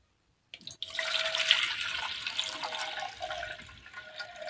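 Water from soaked rice being drained off into a second pot in a home kitchen, a steady continuous splashing pour lasting several seconds with no talking.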